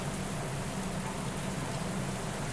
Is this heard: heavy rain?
yes